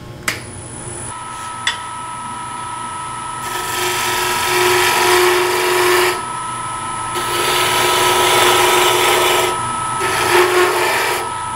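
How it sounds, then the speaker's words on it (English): A spindle roughing gouge cuts a long cove into spinning wood on a lathe, giving sustained rasping, scraping passes in several loud bursts separated by quieter spinning hum, with a couple of sharp taps at the start. "to use is going to be my spindle roughing gouge. This is a cove cut, big, long cove."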